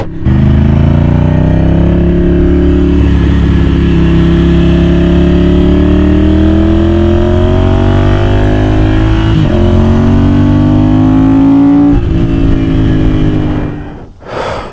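Custom Ducati 750 Super Sport motorcycle on a ride: a loud engine holds a steady drone with gradual pitch changes, drops sharply after a shift, then cuts off as the bike comes to a stop.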